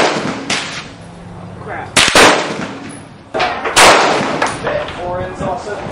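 Mosin Nagant M91/30 rifle shots at an outdoor gun range: two loud, sharp reports a couple of seconds apart, each with a short echoing tail, while someone talks briefly between and after the shots.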